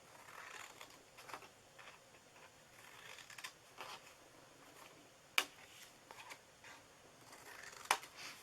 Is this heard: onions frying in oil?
no